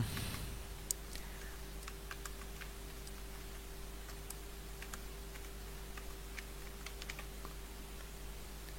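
Data being typed on a computer keyboard, faint scattered key clicks spread irregularly over a quiet steady hum, with no voices.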